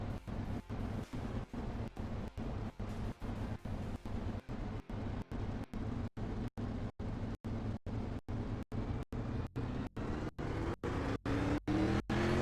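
Race cars from an online racing game in a GSR 98 class feature race, with a steady, loud engine drone and shifting pitch, broken by regular short dropouts, and no talking.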